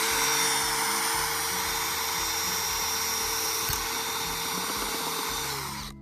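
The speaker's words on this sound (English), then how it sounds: "the first thing we're going to do is drill a hole into the pipe using our drill bit" A power drill with a bit bores a hole into a pipe, one-handed, for a canopy chicken run at an off-grid cabin in Maine: a continuous loud whine with a droning motor tone that holds steady for six seconds, then winds down at the end.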